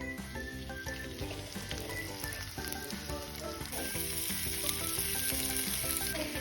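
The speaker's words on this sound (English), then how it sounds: "We're going to brown our meat in a frying pan at a high heat." Beef browning in a frying pan over high heat gives a steady, loud sizzle and frying crackle throughout, mixed with a dense layer of background music and no speech.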